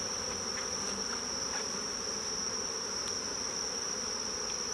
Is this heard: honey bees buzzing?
yes